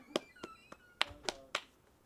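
A few sharp hand claps ring out in a quiet room, about six separate smacks at an uneven pace, faint and isolated.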